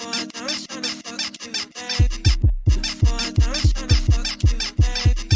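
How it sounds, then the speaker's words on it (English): A bed-squeak sample loops through a jersey club beat built in FL Studio; a punchy kick drum enters partway through and thumps under the rhythmic squeaks in a steady, bouncy pattern. "I've actually just thrown on some kickstart onto the bed squeak as well,"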